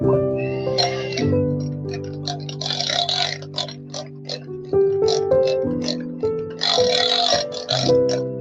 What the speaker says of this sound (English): Slightly whisking it for some time to bring down to the room temperature with a slow speed.